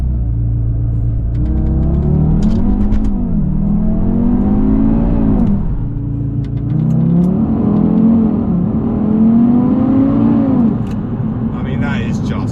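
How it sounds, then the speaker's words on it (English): A 2023 Audi TT RS Iconic Edition with around 400 brake horsepower launches hard with traction control off, its engine loudly revving and rising through several gear changes, heard close from inside the car with a rumbling tone throughout. "Let's launch it one more time, but let me turn the traction off because it didn't launch."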